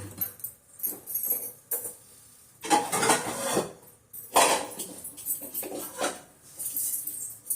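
A metal kadai set down on a home kitchen stove, heard as a few sharp clanks and scrapes in separate bursts with quieter shuffling between them.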